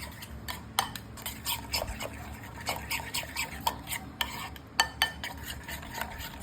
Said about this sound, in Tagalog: Tapos, haluin lang.